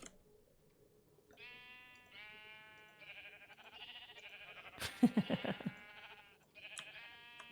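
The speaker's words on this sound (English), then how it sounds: "There's some sheep in there." Sheep bleat repeatedly on a sheep farm in the Minecraft video game, several clear, nasal calls one after another in the middle of a quiet scene, with a faint voice underneath.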